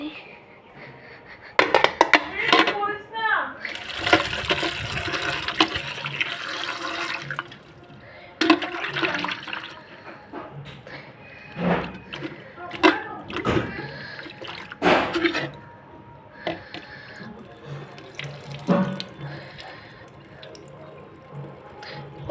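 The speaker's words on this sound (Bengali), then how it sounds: "দেখো টমেটো ধোয়া হয়ে গেছে" Tomatoes are washed in water, with splashing, running and dripping water in uneven bursts, alongside clattering dishes and background voices.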